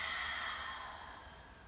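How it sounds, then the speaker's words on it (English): A faint, soft sighing exhale during a guided breathing exercise, a single breathy release that slowly fades over under two seconds. "And exhale, sigh it out."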